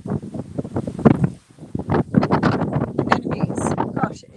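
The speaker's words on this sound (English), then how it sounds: "Gosh, it really is windy." Gusty wind buffets the microphone in loud, uneven rushes in a cut flower garden, with a voice talking through it.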